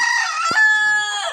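A single gamecock crows close and loud, one sustained strident call that trails off at the end.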